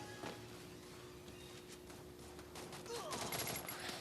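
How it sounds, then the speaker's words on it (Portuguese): Rattling bursts of automatic gunfire in a shooter video game, fairly quiet and continuous, growing denser toward the end, with a faint voice beneath. "eu não consigo atirar no cara e o cara atira em mim"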